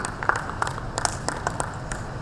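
An audience applauds to welcome dignitaries onto the dais at a corporate volunteering conclave, giving a short, steady burst of mixed clapping from a crowd in a hall, without talking.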